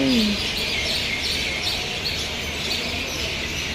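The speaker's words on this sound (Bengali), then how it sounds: "এখানে এত পাখি ডাকছে" Many birds chirp and twitter in a steady chorus beside a railway station, with faint background ambience and no talk.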